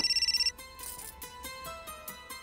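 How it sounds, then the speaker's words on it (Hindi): A telephone rings for an incoming call, a rapid burst of electronic trilling pulses followed by a melodic ringtone of bright repeating notes, moderately quiet and alone without talk. "वृद्धाश्रम से फोन।"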